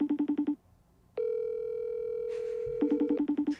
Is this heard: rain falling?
no